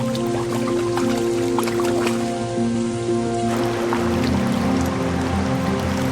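Tall, imposing waterfalls along a salmon run in the wild send a steady broadband rush of falling water, continuous and fairly loud, with music playing over it throughout.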